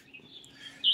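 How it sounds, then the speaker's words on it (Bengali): Small birds chirp faintly from the mango trees outdoors, with a few thin, scattered calls and one brighter tweet right at the end. "আর যে পাখির শব্দ আপনারা শুনতে পাচ্ছিলেন"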